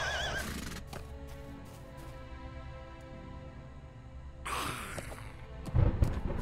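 Horses in the video game The Lord of the Rings Online whinny loudly at the start and again near the end, over a low rumbling ambient background with faint hoof movement.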